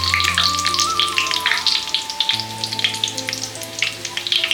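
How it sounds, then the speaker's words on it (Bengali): Onions frying in a pan for home-style restaurant biryani, a dense crackling sizzle with constant popping, loud and close, over a steady low tonal hum. "এটা পেঁয়াজ ভাজতে টাইম লাগে অনেকটাই।"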